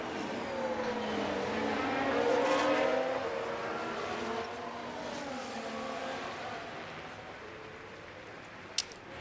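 Formula 1 cars racing in the F1 Manager 2023 video game, with a steady engine drone and shifting revving pitch as cars run close together, continuous and moderately loud with a brief click near the end.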